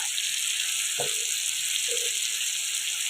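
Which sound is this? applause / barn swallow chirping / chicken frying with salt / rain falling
chicken frying with salt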